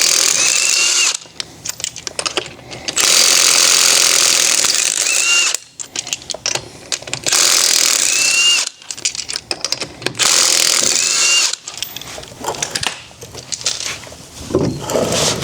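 An impact wrench with a 17 mm socket rattles off the wheel nuts of a Nissan S14 SR20 in a shop, firing loud hammering bursts several times with short quiet gaps between them.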